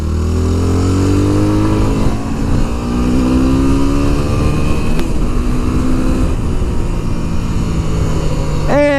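A Yamaha WR250R motorcycle is ridden, its engine droning steadily with rising and falling harmonic sweeps as it accelerates and shifts, loud and close throughout.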